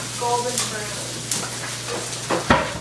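Food frying in a pan gives a steady, close sizzle, with a few sharp stirring scrapes and clinks and a faint voice underneath at times.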